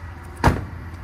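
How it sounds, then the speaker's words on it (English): The security screen section of a Dometic door on a Latitude Meridian 30 RV is pulled apart, making a single short, sharp clack over a low steady hum. "Now these doors actually separate, this part separates, so you do have a security type screen door here."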